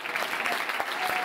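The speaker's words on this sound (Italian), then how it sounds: "Mentre si corre l'applauso alla nostra Silvia Weinsteiner." Crowd applause at an athletics meet, a women's 5000 m race, as a dense, steady patter of distant clapping throughout the short moment.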